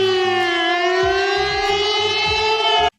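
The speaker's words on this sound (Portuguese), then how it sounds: "Tem uma sirene pra quando a internet acabar" A civil defense siren blares as a steady, loud, sustained wailing tone with layered harmonics, holding for about three seconds before cutting off abruptly, with faint low clatter underneath.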